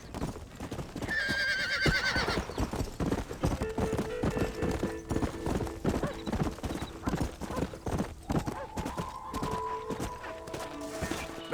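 Horses in Red Dead Redemption on PS5 clip-clop steadily at close range, with a sharp neigh near the start and some faint background voices and game ambience underneath.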